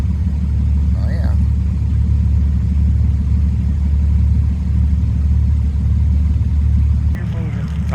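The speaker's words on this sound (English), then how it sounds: "that Ford truck might struggle a little bit to get up there" A Ford pickup truck engine drones low and heavy throughout, steady and straining as it climbs an off-road hill, with faint voices breaking in briefly near the start and end.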